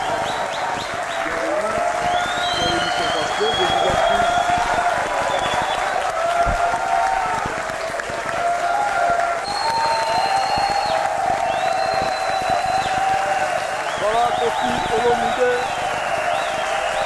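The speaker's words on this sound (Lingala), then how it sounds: "que je vous demande d'applaudir" A television studio audience applauds steadily and loudly for a Congolese singer in 1999, with cheers and whoops rising over the dense clapping throughout.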